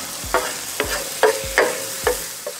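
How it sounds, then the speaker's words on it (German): Diced bacon frying in a pan, a continuous close sizzle broken by five or six rhythmic stirring scrapes roughly every half second, no talking. "Wir jetzt die Speckwürfel, die braten wir ein kleines bisschen an."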